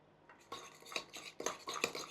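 A spoon scrapes and knocks around a bowl while a buttery topping for accordion potatoes is mixed, giving a series of close, irregular clinks and swishes with no talking.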